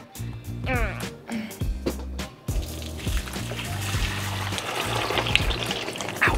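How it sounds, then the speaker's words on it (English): Ricotta cheese curds and whey poured into a cheesecloth in a kitchen, a soft trickling, splashing flow heard close and fairly quiet, with a few clinks at the start. "I'm gonna pour it into a cheesecloth and hang it for 20 minutes."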